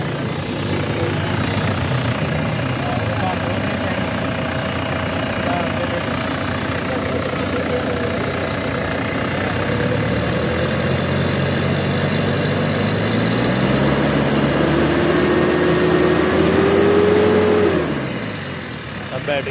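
A Mitsubishi Pajero engine runs close by during a charging check, idling steadily and then revving up and settling back near the end; someone talks over the engine noise.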